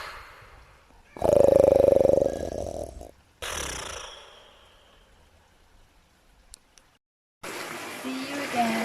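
A voice imitates the Gruffalo snoring in a children's story reading, giving a few loud, drawn-out rumbling snores with pauses in between.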